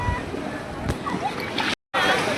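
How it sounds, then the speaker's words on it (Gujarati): Sea waves surge and splash against the steps of Gomti Ghat at high tide, a continuous loud wash of water with a brief dropout near the end and voices faintly in the mix. "જોઈ લો ખાલી કેટલા મોજા ઉતરે છે"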